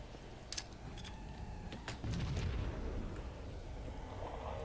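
A grenade blast for a nade jump in Halo: Combat Evolved on the level 343 Guilty Spark, with a few sharp game pops followed by a low booming explosion and rumble, moderately quiet and without talk.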